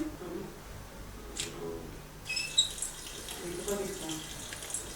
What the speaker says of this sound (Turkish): Hemen güzel bir duş alayım.